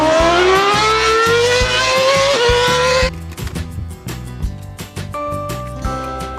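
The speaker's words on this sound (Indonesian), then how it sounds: "Formula One racing car." Formula One racing car engine screaming upward in pitch for about three seconds, then cutting off as a steady rhythmic music beat carries on alone with plucky tones.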